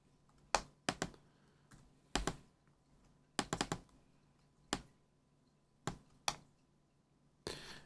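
Sparse, separate computer keyboard keystrokes, single taps and short clusters of two or three, close and crisp with quiet gaps between them, while typing into Pure Data.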